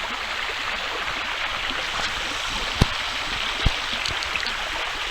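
Creek water runs steadily in a continuous, even rush, with a couple of sharp knocks or splashes cutting through partway along.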